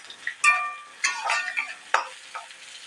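A spoon scrapes and stirs masala with green chili and cumin paste in a hot pan, giving a few sharp clinks and scrapes over a soft sizzle, with quiet gaps between strokes.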